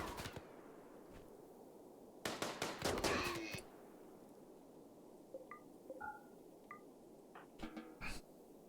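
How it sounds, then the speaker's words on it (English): Bursts of rapid gunfire in the colony game Rimworld as colonists shoot an animal, one short burst, then a dense volley, then scattered sharp shots and another brief burst, with small blips and quiet ambience between. "Now let's all shoot at this one."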